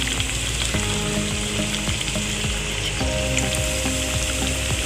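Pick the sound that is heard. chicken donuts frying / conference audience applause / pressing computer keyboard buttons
chicken donuts frying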